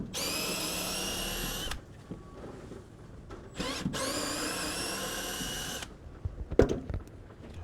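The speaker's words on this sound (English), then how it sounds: "So let's start taking out the screws." Power drill backing screws out of timber decking boards in two long whirring bursts, close and loud, followed by a few clunks and rattles.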